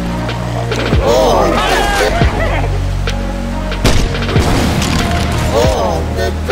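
Frag grenade blasts and game combat in Left 4 Dead 2: a couple of sharp booms land near 1 s and 4 s amid a busy mix of gunfire clatter and shouting voices.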